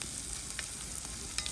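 Onions frying in a pan for a bondas fish roast give a dense, continuous close sizzle with faint crackles through a short moment, and no talk.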